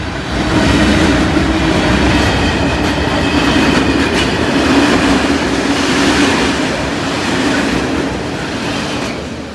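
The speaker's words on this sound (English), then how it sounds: "And train approaching." A British Rail train, a rake of auto ballasters bound for Doncaster, rumbles loudly past the Brayford level crossing, a steady close roar of wheels and wagons that fades slightly at the end.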